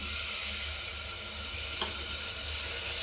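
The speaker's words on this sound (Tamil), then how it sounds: "இந்த சமயத்தில் இந்த ஊற வச்சுருக்கிற இந்த கடலையும் அரிசியும் இதில் சேர்த்துக்கலாம்." Soaked chickpeas and rice tipped into hot oil with sautéed masala, giving a continuous hissing sizzle that stays even and close, with one faint clink partway through and no voices.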